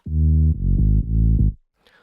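Serum synth lead from the second part of a house drop, its first note pitched up seven semitones: three thick, buzzy sustained notes in a row, loud and alone, ending abruptly with a faint noisy tail.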